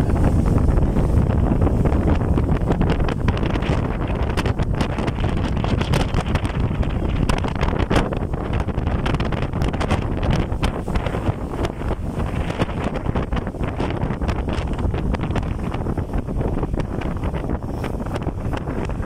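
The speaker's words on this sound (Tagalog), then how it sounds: "Grabe lang sa hangin." Strong typhoon wind roars and buffets the microphone continuously, a loud rumbling gusty rush with no voices.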